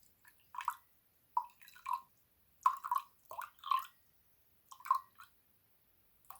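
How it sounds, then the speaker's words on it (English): Water measured out for a homemade niacinamide face serum, heard as a series of soft, close drips and small splashes in short bursts with quiet gaps between. "So we are going to measure out our water."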